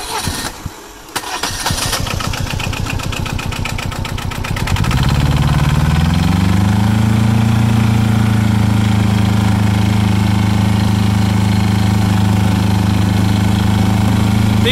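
An Arctic Cat 700 Diesel UTV cranks with a rapid starter rattle, catches, and settles into a loud, steady, close diesel idle drone that holds to the end, with no talking.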